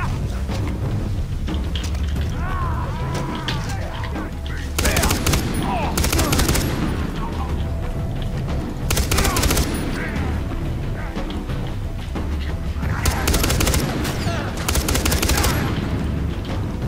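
Heavy gunfire from Far Cry 3, with bursts of shots and rapid automatic fire coming in clustered volleys over a constant background of game noise and effects.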